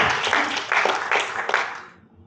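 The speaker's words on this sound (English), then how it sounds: "Please give a round of applause to Mr. Nana, ladies and gentlemen" A short burst of audience applause and cheering that swells in waves, then fades out toward the end.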